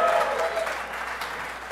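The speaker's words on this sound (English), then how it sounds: "this, I think, will get a round of applause, too" Audience at a sailing race skippers' briefing for the Race to Mackinac claps in a short, dense round of applause, close and moderately loud, fading slightly over under two seconds.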